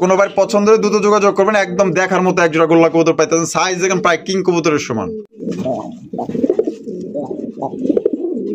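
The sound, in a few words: pigeons cooing, Golla fancy pigeons for sale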